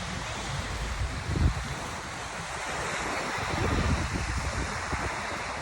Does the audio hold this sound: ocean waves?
yes